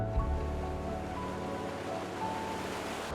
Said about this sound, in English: This is where we discharge the water treated from the plant.